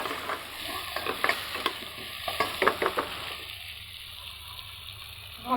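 Onion, potato and garlic fry in a pan for a garlic beef dish, a steady close sizzle broken by repeated scraping stirs of the spatula, with no talk.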